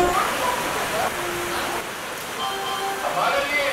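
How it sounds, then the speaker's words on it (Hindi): Heavy rain pours steadily onto Cuttack railway station platform number 1, a dense continuous wash of falling water with no breaks, while tonal bits of station sound drift through. "बारिश एकदम जोरों शोरों से यहाँ पे चालू है।"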